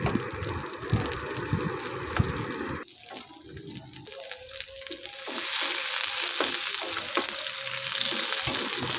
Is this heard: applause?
no